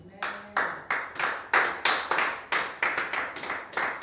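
A church congregation claps in praise of Jesus during a French-language prophetic sermon, with about a dozen loud, sharp claps landing in a steady, even rhythm. Voices murmur faintly underneath.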